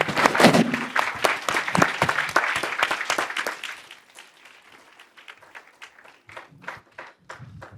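Standing ovation for the President at a lecture: dense applause from a hall audience that thins out to scattered, fading claps.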